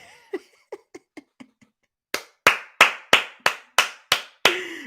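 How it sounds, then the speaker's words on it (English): Hands clapping alone: a run of quick, lighter claps, then a brief gap and a louder series of about eight sharp, evenly spaced claps close up. "Jason Garrett clap."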